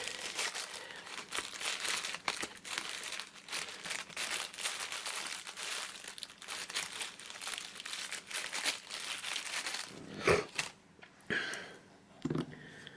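A paper envelope holding a 1960 crown coin from the Orkney Isles is handled close by, giving continuous crinkling and rustling with light taps. Sharper crumples and snaps come near the end.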